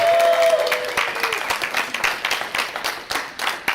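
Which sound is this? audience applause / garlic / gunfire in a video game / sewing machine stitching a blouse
audience applause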